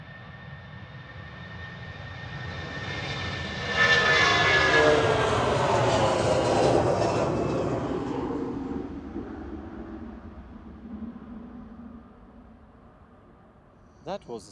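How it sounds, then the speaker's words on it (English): A Boeing 757 jet airliner roars past at Manchester Airport, its engine noise swelling to a loud peak then fading away as it recedes into the distance. "That was the sound of the Boeing 757 as it passed us at Manchester Airport."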